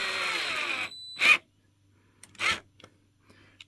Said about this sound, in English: grab my handy-dandy screwdriver, or rather drill with its bit